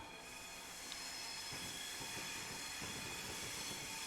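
A video-game train takes a crossover at full speed, with a steady loud rumble of wheels on rail and rhythmic clicking over the joints, a faint squeal riding on top the whole time.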